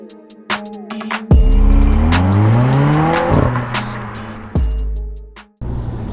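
Mercedes-AMG A45 hatchback driving hard, its engine revving up through the gears with sharp rising pitch sweeps, loud and close, with brief lifts between pulls.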